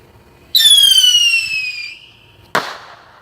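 A firework whistles upward with a loud descending shriek for about a second and a half, then a sharp close bang follows after a short pause, outdoors.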